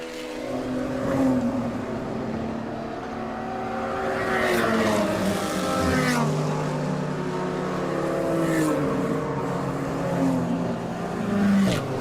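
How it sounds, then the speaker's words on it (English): Race cars roar past on the track at Virginia International Raceway during an endurance race, their engines droning and rising in pitch as they pass, loud and continuous for the whole stretch with no voices over them. "You could hear the cars next to it more than you could hear it."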